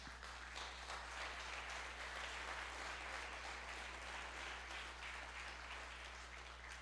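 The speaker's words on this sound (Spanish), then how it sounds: "Dale un aplauso si se lo quieres dar." Church congregation applauding at a sermon, a steady wash of clapping that holds evenly and fairly loud across the whole stretch, with a low hum underneath and no voices on top.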